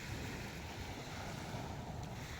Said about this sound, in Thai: นี่ครับบรรยากาศอันกว้างไกล ของทะเล